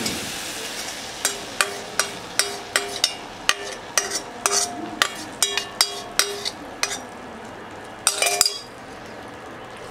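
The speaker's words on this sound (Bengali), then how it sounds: "এবার আমি মিশ্রণটা সেই চিকেনটার মধ্যে দিয়ে দিচ্ছি।" A spoon stirs a spice mixture into raw chicken in a bowl for a chicken boti kebab marinade, giving a steady run of sharp, close metallic clinks and scrapes at an even rhythm, with a denser cluster near the end.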